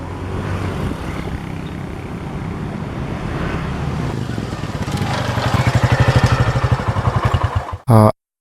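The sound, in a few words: motorcycle engine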